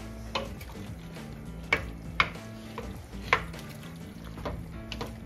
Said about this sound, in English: just simmer this a few minutes, about 10 minutes.